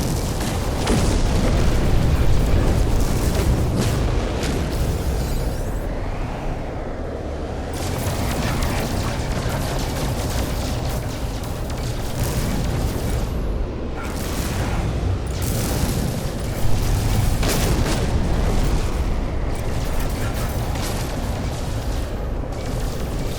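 Gunfire aimed at a pirate ship in a video game, a dense, continuous roar of booming shots and explosions lasting throughout, with no talking.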